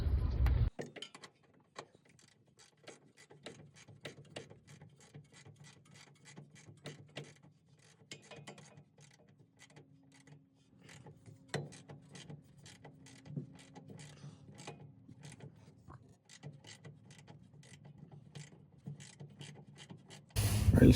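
Quiet, rapid ratchet clicks as an 18mm bolt on a rear shock absorber of a rear-wheel-drive Ford Ranger is tightened, with brief pauses between runs of clicking.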